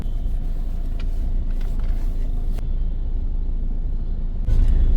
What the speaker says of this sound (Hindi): पर ट्रैफिक तो आपको दिख ही रहा होगा